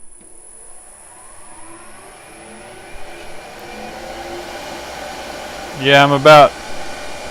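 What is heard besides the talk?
lathe running at over 3000 RPM turning acrylic pen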